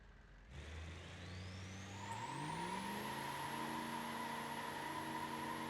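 A Gavril D-Series truck in BeamNG.drive starts up and revs, its engine pitch climbing in steps before settling into a steady, high whining drone, with no talking.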